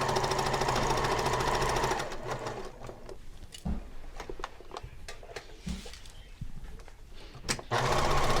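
A sewing machine runs a seam around a pillow sham, a steady close whir for about two seconds, then quieter handling clicks and fabric rustle, and the motor starts again near the end.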